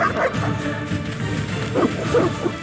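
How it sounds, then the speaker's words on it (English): Evil dogs barking in The Witcher video game, a few short yipping barks and whimpers at moderate distance over a muffled game ambience. "They're evil dogs."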